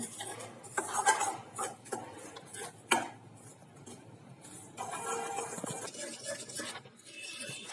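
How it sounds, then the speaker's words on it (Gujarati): A spoon mixes powdered sugar into cold desi ghee in a bowl, making soft scraping strokes and a few sharper clinks against the bowl, quiet and close, with no voices. "બરાબર દેશી ઘીની અંદર દળેલી ખાંડને મિક્સ કરી લઈશું"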